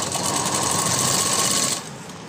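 A sewing machine runs steadily, stitching close along the edge of a floral frock, a continuous near whir that drops to a lighter hum near the end.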